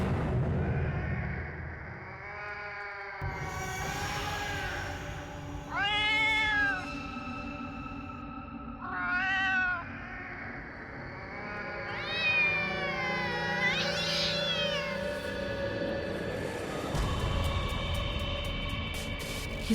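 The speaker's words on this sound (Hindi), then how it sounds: "ये तो वही बिल्ली की आवाज है" A cat meows four or five times in long, drawn-out, rising and falling cries with pauses between them, set against a low rumbling background.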